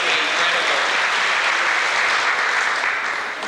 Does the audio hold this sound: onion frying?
no